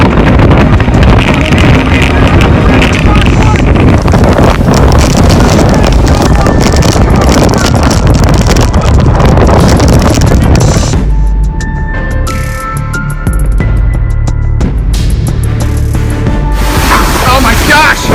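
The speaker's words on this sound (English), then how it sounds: "125 mile-an-hour winds, 100 plus." Hurricane-force wind, a Category 4 storm at Port Aransas, Texas, roars and buffets the microphone in loud, constant gusts, easing somewhat toward the end while a voice speaks over it.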